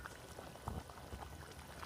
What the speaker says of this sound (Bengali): তরকারিটা বেশ সুন্দরভাবে ফুটে উঠেছে